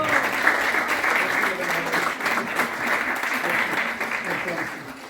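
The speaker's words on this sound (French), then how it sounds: "applaudissons encore" An audience at a Paris colloquium claps in steady, moderately loud applause, with voices mingling through it and the clapping tapering slightly at the end.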